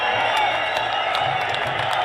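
Crowd applause and cheering greet Prime Minister Narendra Modi at Chief Minister Dhami's swearing-in ceremony, a steady continuous wash of clapping and crowd noise throughout.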